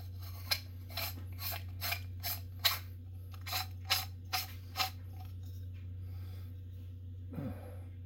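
A custom lightsaber hilt edge is polished with 1500 grit sandpaper: about ten short, rhythmic rasping strokes, close and fairly quiet, over a steady low hum. Then a pause and a faint shuffle.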